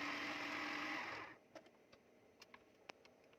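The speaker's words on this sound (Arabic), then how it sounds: "ننزل بيه في الكبة ونبدأ نفرمه فرم ناعم جدا" A food processor whirs loudly as it finely minces vegetables and onion for rice kofta, then cuts off after about a second, leaving faint scattered clicks and taps in a quiet room.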